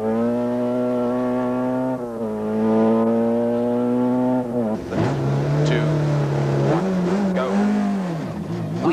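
A Nissan rally car runs a 14.6 km stage over disused runways at Wingfield Naval Base in 1995. Its engine holds a loud, steady high drone, then shifts down and pulls hard through changing revs, close and dominant.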